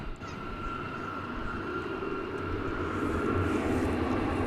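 An American Airlines 787-9 Dreamliner jet airliner at DFW Airport gives off a steady, distant engine roar. The rumble is moderately loud and slowly swells over a few seconds.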